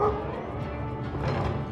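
Dog barking in the Knee Deep video game, a few quick close woofs and yips over a low rumbling background, with no talk.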